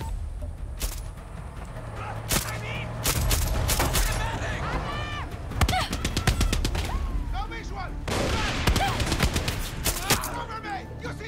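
Far Cry 6 gunfight with heavy, loud bursts of automatic gunfire and scattered single shots coming in irregular clusters throughout, mixed with game effects, while a player talks over the shooting.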